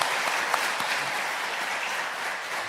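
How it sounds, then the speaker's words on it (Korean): A church congregation applauds at a Korean Methodist revival service, a dense, even wash of clapping from many hands that holds steady for a few seconds without voices. "우리 박수로 감사의 마음 표현하도록 하겠습니다"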